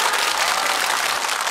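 A studio audience on a Korean KBS family game show applauds, with steady dense clapping that fills the room evenly for the whole moment.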